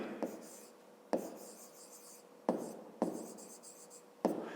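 A pen scratches out a math problem on paper in a quiet room, each stroke starting with a sharp tap and trailing into a soft scraping, repeating five times in an uneven rhythm.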